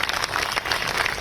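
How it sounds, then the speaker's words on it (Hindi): An audience at the inauguration of a sports city applauds, a steady dense patter of many hands clapping at moderate distance, with a voice speaking faintly underneath. "एक बार इनके लिए जोरदार तालियां"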